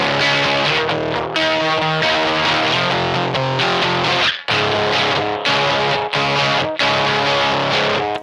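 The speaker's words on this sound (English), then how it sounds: "And so here is the distortion side." An electric guitar plays chords through a pedalboard distortion effect, loud and saturated, with strummed phrases cut by a few brief silences.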